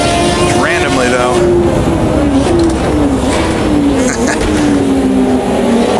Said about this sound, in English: Almost sounds like a whip crack when you come under the bridge.